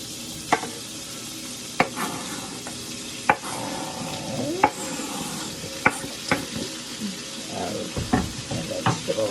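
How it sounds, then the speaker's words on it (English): Vegetables sizzle steadily in a pan for shrimp pasta, with sharp knocks of a spoon or spatula stirring and scraping through the crackling fry at close range. "And now that those are sizzling,"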